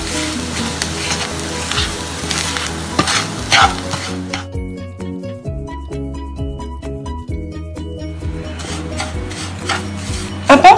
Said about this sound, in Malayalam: ഇനി ഇതിലേക്ക് നമ്മൾ റവ ഇട്ട് കൊടുക്കാൻ പോവാം കേട്ടോ. ഇട്ടിട്ട് ഒരു 5 മിനിറ്റ് ലോ ഫ്ലെയിമിൽ ഒന്ന് റോസ്റ്റ് ചെയ്തെടുക്കാം.